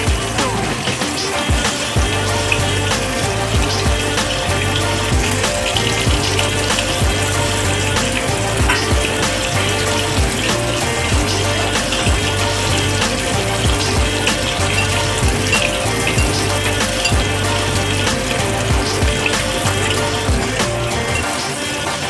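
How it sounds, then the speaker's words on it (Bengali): A kitchen tap runs steadily as ground spice paste of ginger and garlic is rinsed, the water spattering and gushing close by without a break. "এবার এই মশলাটাকে ধুয়ে নেবো"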